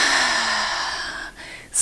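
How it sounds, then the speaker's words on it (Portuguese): A deep breath drawn in through the nose and released through the throat, heard as a long, close, airy rush that fades out and then starts again at the end. "puxando o ar pelo nariz e soltando pela garganta"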